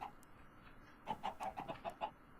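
Chickens in a video game: after a quiet start, a quick run of about seven faint clucks arrives in an uneven rhythm during the second half.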